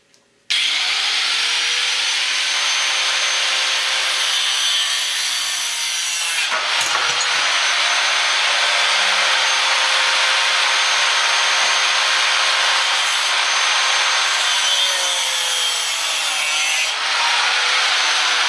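A cutting wheel grinds through the tops of a jockey box build in a loud, continuous abrasive whine. It dips briefly midway and then resumes close up and steady, with no talking.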